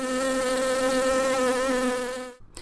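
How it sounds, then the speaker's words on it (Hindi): Wings of a flying bee make a loud, steady buzzing drone with a slightly wavering pitch, held close for over two seconds before it cuts off abruptly. "कुछ साउंड्स का पिच लो होता है, जैसे कि उड़ते हुए मधुमक्खी के पंखों से निकला हुआ साउंड।"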